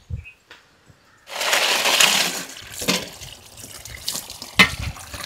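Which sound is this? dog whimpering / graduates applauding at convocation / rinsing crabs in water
rinsing crabs in water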